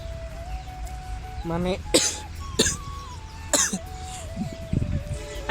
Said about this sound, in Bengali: ক্যামেরার সামনে কথা বলার সময় কাশি আসবে আমার